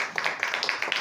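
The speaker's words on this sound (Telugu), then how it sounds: "చప్పట్లు కొట్టండి ఒకసారి" Several people at a wedding clapping in a quick, uneven burst of claps, fairly close but modest in volume, lasting about a second.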